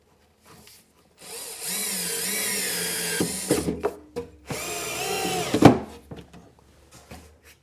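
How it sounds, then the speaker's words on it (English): Cordless drill driving pocket hole screws into a kitchen cabinet in a workshop: two bursts of high whirring, the second ending in a sharp clunk as the screw seats, with short handling knocks between. "all we got to do is just put our pocket hole screws in"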